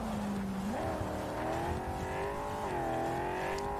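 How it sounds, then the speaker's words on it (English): Steady engine drone from a car being driven in Cyberpunk 2077, shifting up in pitch as it accelerates, then cruising with a smooth humming tone and another brief rise near the end. "Ah, the cars sound so nice."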